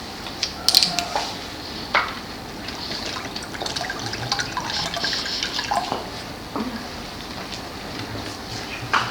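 Water from Wilderswil, Switzerland, poured and trickling in a steady, gentle flow with occasional drips and small splashes, close by and fairly quiet, with no voices.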